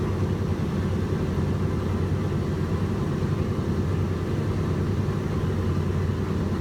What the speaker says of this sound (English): enjoying the experience of even just hearing the engines from the inside of one of these planes